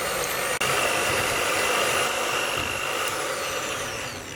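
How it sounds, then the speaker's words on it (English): A hand beater on low speed mixes red velvet cake batter with three eggs, humming as a steady, close motor drone with one brief dropout near the start and a slight fade at the end. "Now just using a hand beater,"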